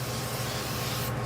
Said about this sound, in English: spray my pan so I don't have anything sticking